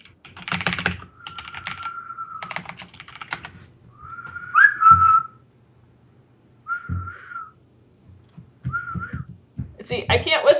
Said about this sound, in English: Let me try to whistle.